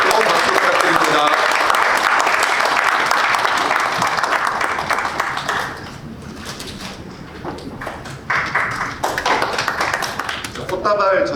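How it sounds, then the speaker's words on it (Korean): An audience at a Korean literary award ceremony breaks into sustained applause, dense clapping that dips briefly midway and then swells again, with a voice speaking over it near the end. "뜨거운 박수 부탁드립니다."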